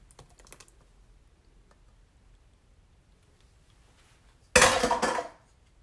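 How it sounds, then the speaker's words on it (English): Eggs go into pancake batter of buttermilk in a bowl, a brief, sharp clatter and splash near the end after a mostly quiet stretch with a few faint clicks. "I'm going to add my eggs"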